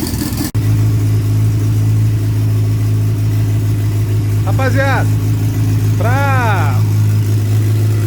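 A turbocharged VW Voyage with its grille removed idles loudly, then revs twice near the end, each rev followed by a fluttering turbo chirp. Someone speaks briefly at the start.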